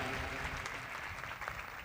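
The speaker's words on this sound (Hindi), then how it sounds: "आइए जोरदार ताली खुदा के कलाम के लिए भी बजाएं।" A church congregation at an Urdu sermon gives loud, dense, sustained applause that fills the room, with faint voices mixed in.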